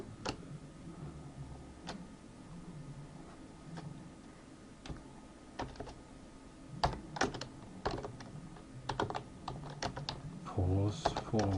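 Someone types comments into controller configuration code on a computer keyboard. Scattered key clicks come at first, then build into quicker bursts of tapping, over a low background hum.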